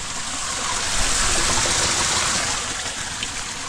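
Water flows steadily from a source as hands are washed beneath it. The broad, continuous gush carries on at an even level with no pauses, close by and fairly loud.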